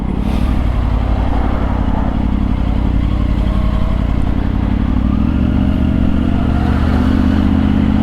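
Triumph Tiger motorcycle cruising on a road in England, a steady loud engine drone with wind rush, holding an even tone throughout and shifting slightly in pitch midway, with no talk.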